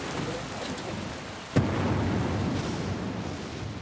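Steady heavy rain of a raging storm over a vast forest swamp, with a sharp thunder crack about midway followed by sustained loud downpour and rumble, no voices.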